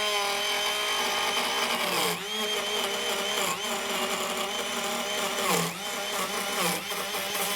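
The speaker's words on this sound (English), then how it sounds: "I need a 1/2 inch deep slot, so must make several passes at the 1/8 inch depth limit of the router." A Ryobi ONE+ compact fixed-base router with a brushed motor cuts a slot in wood at shallow depth, a loud, sustained high whine that dips in pitch as the bit bites into the cut.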